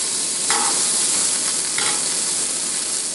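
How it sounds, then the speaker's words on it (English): A burger sears in a hot pan, its fat dripping out, giving a steady loud sizzle that runs throughout with a couple of brief brighter crackles. "This hasn't even been cooking for a minute, and you can see that there's already fat that's dripping out of that burger."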